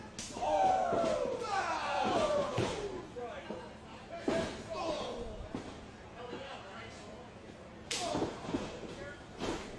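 Body blows land during a wrestling show, a series of heavy slapping thuds spaced through the ring action while a commentator keeps talking over them.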